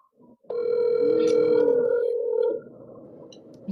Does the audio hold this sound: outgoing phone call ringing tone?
yes